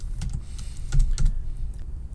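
Typing on a computer keyboard, a short run of sharp key clicks with a couple of heavier strikes in the middle, close and alone with no voices.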